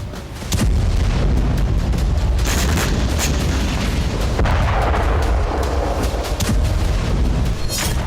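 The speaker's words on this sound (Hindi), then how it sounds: "बम का धमाका, क्यों कांपा इलाका?" A heavy, deep explosion booms and rumbles on, with crackling debris and rolling low thunder filling the air for several seconds.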